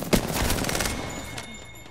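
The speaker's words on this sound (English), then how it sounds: "Shots fired at me." Rapid automatic gunfire from an Apex Legends fight erupts at close range, a dense rattling volley that keeps going and slowly fades over the short stretch.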